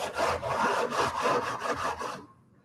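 Close, steady rasping strokes of a sanding block rubbing against wood on a window fitting, a rhythmic back-and-forth scrubbing that stops abruptly near the end.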